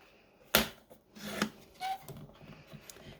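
Paper being cut to size for small notebook journals, a few sharp snips and slicing strokes up close and fairly quiet, separated by brief pauses with light handling rustle.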